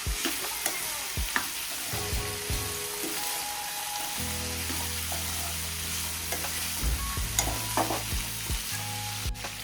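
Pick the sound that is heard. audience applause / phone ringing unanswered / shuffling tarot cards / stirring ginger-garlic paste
stirring ginger-garlic paste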